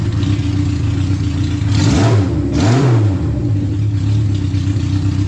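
A 1972 Honda CB500 Four motorcycle engine idles steadily, then revs up twice in quick succession before settling back to idle, loud and close with no talking.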